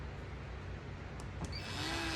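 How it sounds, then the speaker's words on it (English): A power drill bores holes into the board of a wooden bookcase cabinet, a steady close whirring that rises in pitch near the end as the motor spins up. "So I go ahead and drill that."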